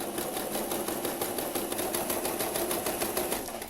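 A sewing machine stitching a straight seam with a backstitch, its needle running in a fast, even, close mechanical rhythm of rapid ticks without pause and with no voices over it.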